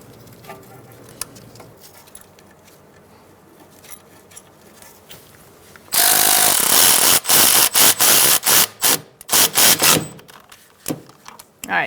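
Metal tools clatter and clank while a brake line bracket is refitted on a 2012-2017 Hyundai Accent, starting quiet, then a loud run of close, sharp knocks and scrapes in irregular bursts.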